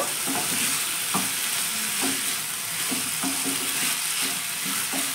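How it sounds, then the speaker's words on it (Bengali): Chicken cooking in yogurt is stirred in a hot pan, a steady close sizzle broken by a regular series of scraping, clacking spoon strokes about every half second. "আবারও একবার ভালো করে নাড়াচাড়া করে দেব"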